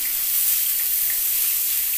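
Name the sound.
grated cauliflower frying in a pan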